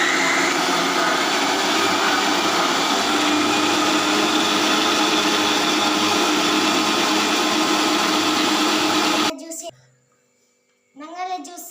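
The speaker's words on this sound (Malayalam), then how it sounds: "എല്ലാ ഐറ്റമായി മിക്സിയിൽ ജ്യൂസ് അടിക്കാം." A home mixer grinder whirs loudly and steadily as it blends papaya juice with sugar and milk, then cuts off near the end, leaving a short quiet gap before voices return.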